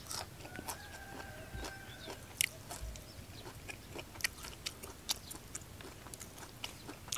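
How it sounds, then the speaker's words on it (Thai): Crunchy bites and chewing of fresh lead tree (krathin) shoots eaten alongside a Thai-Lao noodle salad, a run of close, quiet, irregular crunches with faint background noise and no talk. "หยอดกระถิ่นกำลังแบบกรอบๆเลยพี่น้อง"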